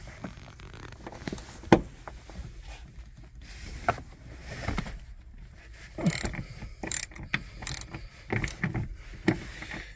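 Bolts being loosened on a gun mount bracket in a Jeep Wrangler, heard as scattered ratchet clicks and short metallic turning bursts with pauses in between, fairly close, with no voices.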